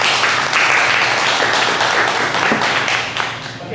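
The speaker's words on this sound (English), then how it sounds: "thank you all for clapping" An audience at a morning session applauds, dense steady clapping that stays loud and then begins to thin out toward the end.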